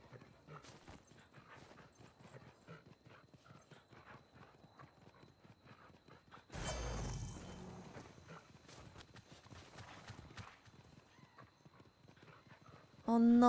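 Goats' hooves clop in a quick, light patter across the ground in Monster Hunter Rise: Sunbreak, a steady run of small taps with a louder burst of game sound midway and near the end.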